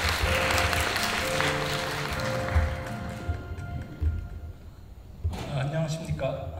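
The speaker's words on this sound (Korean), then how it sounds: "박수를 맞이해 주시기 바랍니다" Audience applause welcomes the vice president of a landscape architects' association to the podium at an academic event. The clapping is fairly loud at first and fades out midway, with speech and tonal sounds mixed in and a voice returning near the end.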